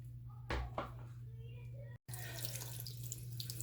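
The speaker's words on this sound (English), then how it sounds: "I'm going to go ahead and start up the water so it can get it nice and hot" Water runs from a sink tap to heat up for washing makeup brushes, a steady close hiss with a couple of splashes, a brief cut, then continued running.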